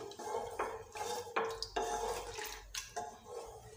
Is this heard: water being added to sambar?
yes